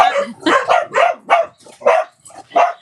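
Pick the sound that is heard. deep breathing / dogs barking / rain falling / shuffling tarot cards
dogs barking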